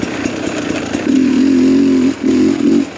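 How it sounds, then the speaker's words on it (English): Dirt bike engine fitted with a Smartcarb SC2 carburetor, close idle-level putter rising into a sustained drone, dipping briefly as the throttle is rolled off and back on, then bogging before settling, with no talk. "once I get off the throttle and back on, you can hear it bog a bit"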